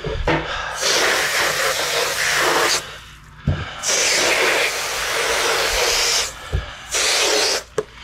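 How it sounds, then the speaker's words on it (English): A garden hose sprays water over freshly cleaned pompano fillets in steady loud hissing bursts, broken by short pauses and a few knocks, close to the mic. "We'll spray them off here with the hose."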